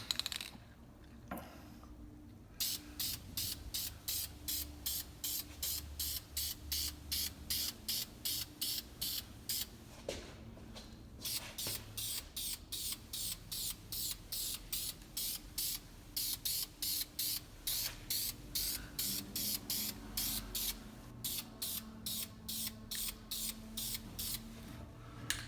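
Spray paint goes on as a light base coat on a Corvette, heard as a long run of short, rhythmic hissing bursts at a soft level. The bursts pause briefly a few times, with no talking.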